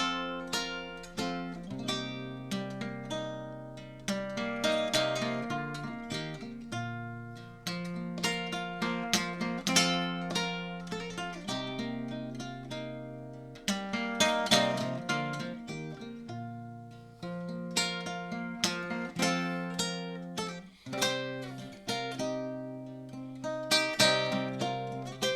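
A stringed instrument played as arpeggiated chords picked on individual strings, a steady stream of plucked notes ringing into one another with sustained low tones, close and unaccompanied by talk.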